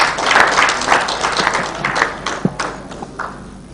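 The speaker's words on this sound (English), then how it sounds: "Can we give him a round of applause as he comes" Applause from the audience at an annual conference, a fairly loud crowd clapping that starts full and gradually thins out over a few seconds, with scattered individual claps near the end.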